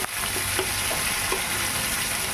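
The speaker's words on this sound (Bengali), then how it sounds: "পেঁয়াজটা হালকা ভেজে নিয়েছি" Onion frying lightly in oil with cumin and black cumin in a home kitchen pan, a steady close sizzle with a few soft stirring clicks, no voices.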